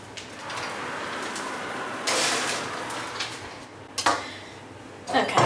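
Baking trays slide and clatter into a kitchen oven, with a few scraping metallic bumps and a door-like clunk near the end, fairly close.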